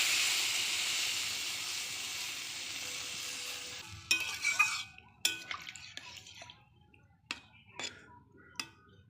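Water poured into a pan of mustard-paste rohu and cauliflower curry makes a strong hissing rush for several seconds. It then cuts off into quieter bubbling with scattered sharp clinks of a spoon against the pan, close and without talk.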